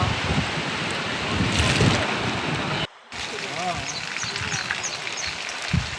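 Floodwater rushes through the Vareh river below the breached Godadha dam, a loud continuous roar mixed with wind buffeting the microphone, broken by a brief dropout; someone talks over it.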